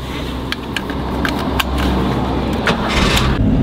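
A Jeep Cherokee XJ engine runs with a low, rough rumble as it pulls away, with clicks and knocks from the cabin as the revs rise slightly near the end.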